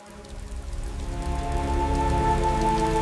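Steady rain falls in a desert setting, a continuous patter that builds slightly and then holds level, with a low rumble and faint tonal hum underneath, and no voices.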